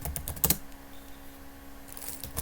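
Computer keyboard typing while writing code for an Appium test automation project, with a quick cluster of clicky keystrokes at the start, a quiet pause, then a few more keys tapped near the end.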